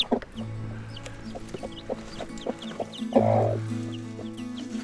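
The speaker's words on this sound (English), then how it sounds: "Chooks had chicks." Hens and their young chicks clucking close by on a farm clearing, with repeated short clucks and soft peeps, and one louder, longer hen call near the end.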